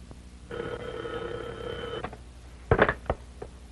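An old telephone bell rings once in a sustained burst, fairly near and clear, followed by the clack of the receiver being picked up; no talk over it.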